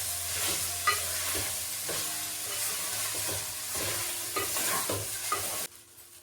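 Rice and vegetables stir-fried over a high flame, with steady close sizzling and frying broken by repeated scraping and tossing strokes of a spatula, ending abruptly.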